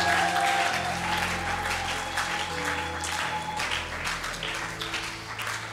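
A church congregation applauding loudly at an evening worship service, dense sustained clapping over a low droning music bed throughout.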